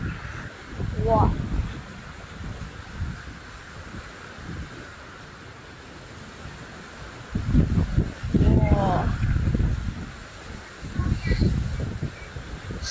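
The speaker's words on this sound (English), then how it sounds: "So windy." Strong typhoon wind buffets the microphone in loud, rumbling gusts that swell and fade several times. A person speaks in the middle of it.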